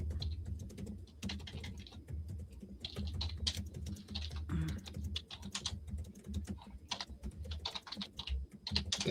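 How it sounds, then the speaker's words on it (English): Rapid, uneven clicking of keys on a computer keyboard, typed close by in short bursts with brief pauses, alone without any voices. "He's typing Hello, too."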